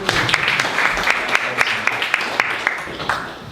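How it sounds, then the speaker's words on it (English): An audience at a talk on voice use cases claps for a volunteer named Niels, a brisk, fairly loud round of applause that holds steady for a few seconds before thinning slightly. "Round of applause for Niels."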